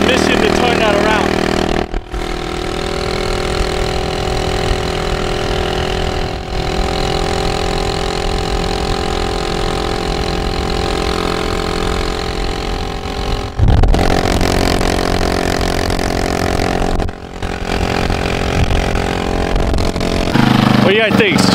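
A Honda Ruckus scooter engine runs steadily with a droning idle and small shifts in pitch, heard close, while someone talks over it for most of the stretch.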